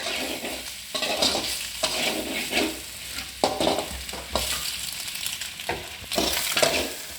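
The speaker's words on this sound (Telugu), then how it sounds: "ఇలా ఫ్రై అవుతుంది అంతే అండి, 2 మినిట్స్ ఫ్రై అయితే చాలు." Boiled eggs fry with masala for a pepper fry, loud sizzling swelling in bursts as a spoon stirs and scrapes the pan roughly once a second, with occasional metal clinks.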